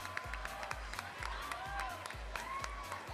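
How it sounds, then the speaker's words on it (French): Crowd at a graduation ball applauding award winners: steady, dense clapping mixed with some cheering, while a rhythmic low thump of background music pulses underneath throughout. "Bonne main d'applaudissements pour tous les gagnants"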